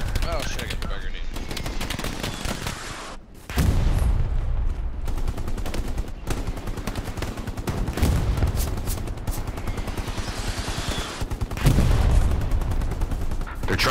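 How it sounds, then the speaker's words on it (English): Gunfire from the video game Hell Let Loose, with bursts of machine-gun and rifle fire and heavy booms going off near and far, mixed with game noise and occasional voices. "They're trying to shoot at our OP, guys."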